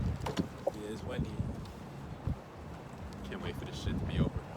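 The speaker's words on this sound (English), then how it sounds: "it's windy." Low, steady wind rumble buffets the microphone, with people talking over it throughout.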